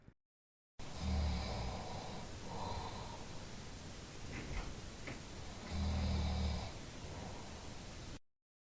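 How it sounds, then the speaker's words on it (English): A sleeping person snores faintly on a handheld recorder, a few slow rasping breaths with soft noise between them, low and distant against a steady hiss. "I can hear you snoring, unfortunately."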